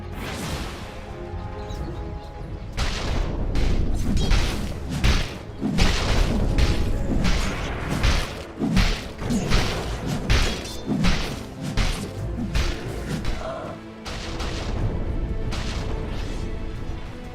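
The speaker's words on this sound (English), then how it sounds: "Dire's top tower is under attack." A tower under attack in a Dota 2 match, with a dense string of loud booming hits, thuds and whooshing spell impacts repeating rapidly with little pause.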